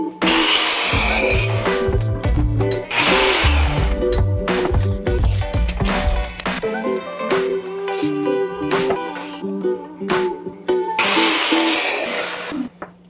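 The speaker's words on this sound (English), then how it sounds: "after we're done pocket holing all of these corners" A power drill cuts pocket holes into the corners of a wooden workbench apron in loud repeated bursts, whirring up and stopping with clattering handling between runs.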